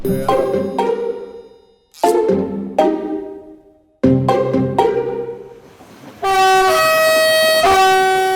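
Loud train horn blasts out on a railway line in a hidden-camera prank: several sharp blaring tones with ringing decays, then a sustained, harmonically rich multi-tone horn blast that holds for about two seconds, with no talking.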